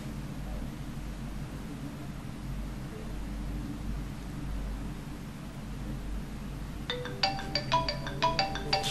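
A mobile phone on the Telstra network rings with an incoming call, its bright electronic ringtone pattern starting near the end after a long stretch of steady low hum and hiss.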